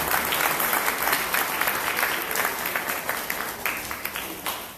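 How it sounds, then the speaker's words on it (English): An audience gives a steady round of applause for the CORAL STEM program at a grant announcement event, dense clapping that holds at a full, even level from start to finish. "So choral, that's a big round of applause."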